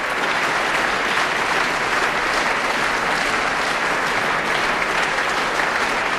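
An audience at a chamber music festival claps continuously, a dense, even wash of applause that holds steady from start to finish.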